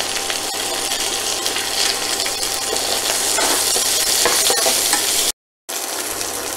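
Onions with salt frying and being stirred in a pan, a loud, steady sizzle with scraping stirs close up, briefly cut to silence near the end.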